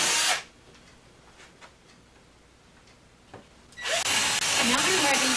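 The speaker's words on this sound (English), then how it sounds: "I'll put it in my drill, and I'll go ahead and make this a nice plumb entrance hole into the bottom of the plywood." A power drill bores a plumb entrance hole up into the bottom of a plywood ottoman base, loud bursts of whirring at the start and again from the middle to the end, with a quieter pause between.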